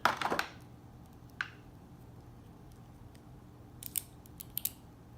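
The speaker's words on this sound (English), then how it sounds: "Go ahead and get this zip tie out, and then just pop out the figure." Scissors snip a zip tie on action figure packaging: one sharp cut at the start, then a softer snip and a few light plastic ticks and rustles, close and otherwise quiet.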